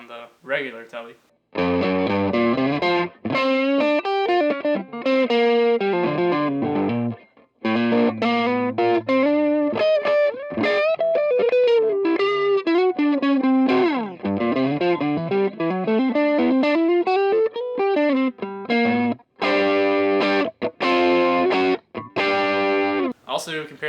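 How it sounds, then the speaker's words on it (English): A regular Fender Telecaster electric guitar plays a country solo, loud and close, in a slightly overdriven tone with fast runs, sliding bends and short gaps between phrases. "This is what it sounds like on the regular telly."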